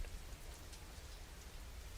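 Steady rain pours down in a dense, even hiss of drops hitting surfaces, with a low rumbling undertone, continuous and alone without voices.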